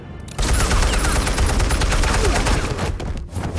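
Gunfire in Batman Telltale Series: a dense, loud burst of rapid overlapping shots after a brief quiet start, sustained for about three seconds before tapering off.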